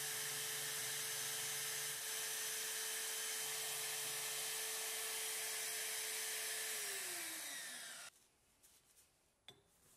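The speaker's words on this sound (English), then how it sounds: "I'll start by rough cutting the two pieces over on the bandsaw" Bandsaw rough cutting metal bar stock: a steady, close, loud whine with constant grinding hiss for about eight seconds, dropping as the blade finishes through, then cutting off to a quiet shop.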